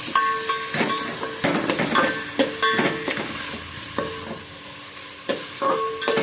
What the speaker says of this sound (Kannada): ಟೊಮೆಟೊ ಹಾಕಿ ಫ್ರೈ ಮಾಡುವ ಒಟ್ಟಿಗೆ ಆಗುತ್ತೆ ಒಟ್ಟಿಗೆ ಫ್ರೈಗೆ